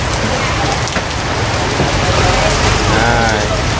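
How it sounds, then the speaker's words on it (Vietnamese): Heavy rain pours down steadily with gusty storm wind during a typhoon in Saigon, close and loud, with a voice faintly audible underneath. "mình thấy cảnh gió mưa bão ở Sài Gòn"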